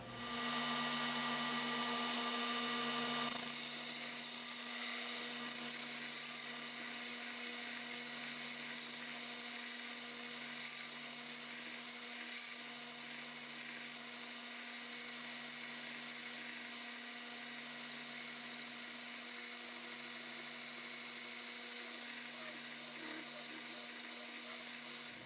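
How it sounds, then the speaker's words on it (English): Bench grinder putting a blunt tip on the end of a metal marshmallow roasting stick, a steady high-pitched motor whir with faint grinding that runs continuously for the whole stretch. "That's going to be my rest as I put a blunt tip on here."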